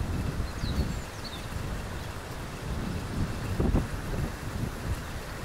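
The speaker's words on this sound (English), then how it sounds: "Here's a bit of wind." Gusty wind roars against the microphone outdoors beside a small home wind turbine running on a 20 mph breeze. The low rumble swells and eases over several seconds, with faint whirring above it.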